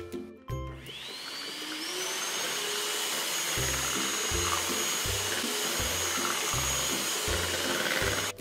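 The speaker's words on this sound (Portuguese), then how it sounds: "E vou bater até homogeneizar novamente." Electric mixer beating a creamy dessert mixture until smooth, a steady loud whirring motor with a rhythmic, repeating chugging pulse as the beaters churn, running alone throughout.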